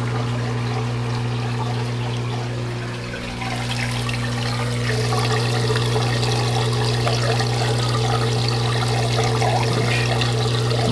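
Water draining loudly through an aquarium overflow, a steady rushing gurgle with trickling splashes over a constant low pump hum, close and continuous throughout, with no talking.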